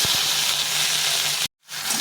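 Okra fries in a pan with black cumin and chilli, giving a steady close hiss and sizzle that cuts out abruptly for a moment, then resumes.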